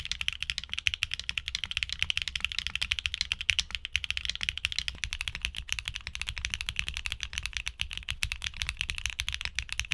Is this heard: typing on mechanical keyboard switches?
yes